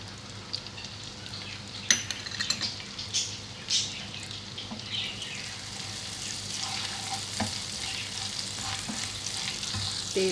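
Garlic and ginger with cumin frying in ghee give a steady, moderate sizzle throughout, with occasional stirring clinks and scrapes in the pan and no talking.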